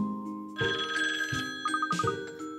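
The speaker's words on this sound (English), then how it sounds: "Oh, that's the phone." A telephone rings in the video game Layton's Mystery Journey, a bright bell-like trill repeating in quick bursts over a soft musical background, no talk.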